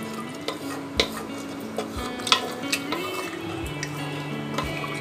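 Black chickpea curry with water added is stirred in a cooking pot, giving soft scraping swirls with sharp ticks of the spoon against the metal over a faint sizzle, close and steady, with no talking.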